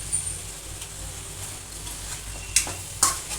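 Palak chicken masala cooks in a pan with coriander powder while a spoon stirs it. A low sizzle runs throughout, and two sharp scrape-clicks of the spoon stand out near the end.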